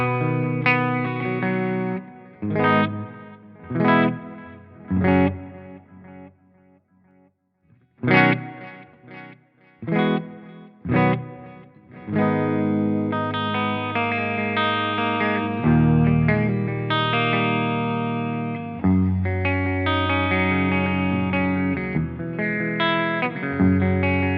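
A distorted electric guitar through amp-simulator software plays stop-start chords and riffs, each note trailed by echoing repeats from a delay effect, then settles into sustained playing.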